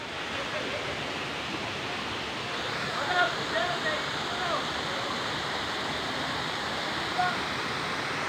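A waterfall pours into a stream, a steady broad rush of flowing water that continues throughout while voices speak faintly in the background.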